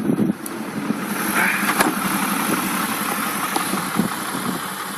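A 4.4 liter V8 in a modified 2000 BMW E39 540i idles steadily up close, a low even rumble that holds for the whole stretch with no voices over it.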